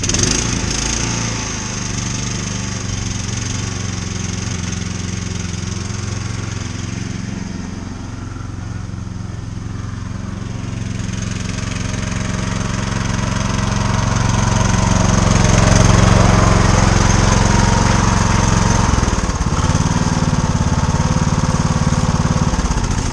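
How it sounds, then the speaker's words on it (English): A lawn tractor engine runs steadily for the whole stretch, a loud, close, rough mechanical drone that rises somewhat in the middle and then dips briefly near the end, with no talking over it. "see if we can get this lawn tractor going and mow some grass"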